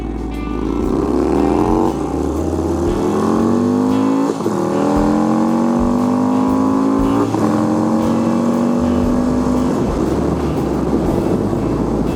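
Yamaha Stryker motorcycle with a 31-tooth sprocket swap riding through the city, its engine revving loud and close with rising harmonic sweeps as gears shift up, including a clear upshift break around the middle, no voices.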